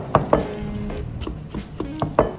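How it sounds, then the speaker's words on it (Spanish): A knife chops through fresh pineapple on a cutting board in a kitchen, giving six or so sharp, close knocks at an uneven pace, with no talking. "Estamos picando la piña para luego picarla en cuadritos."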